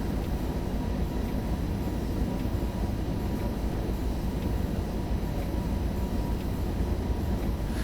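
A DB BR101 electric locomotive in the Train Sim World 2 video game spins its wheels, giving a steady, loud rumbling roar of rail noise that holds without pause throughout, with no voices.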